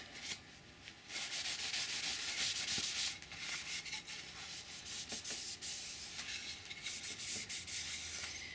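Cloth rubbing steadily across a small pine candle box to wipe off finish residue, a close, continuous scrubbing hiss with brief pauses and strokes throughout.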